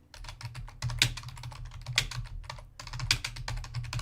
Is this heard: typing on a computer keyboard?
yes